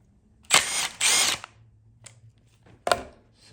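Power tool zipping out a 10 mm ignition coil bolt on a JDM Honda K20A Type R engine: two close, loud bursts of whirring, then a short third burst after a quiet pause, with faint clinks between.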